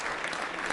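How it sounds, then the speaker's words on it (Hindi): Applause from a quiz show audience with trainee state civil service officers, a brief dense burst of clapping filling the room at steady loudness. "तालियां जोरों से बजाइए आपके लिए।"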